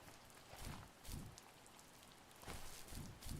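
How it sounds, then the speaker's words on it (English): Soft, faint rain patters in The First Tree video game, with gentle swells of drops on surfaces coming and going in irregular bursts, and no voices. "It feels a bit lonely to just sit here and listen to the rain like this"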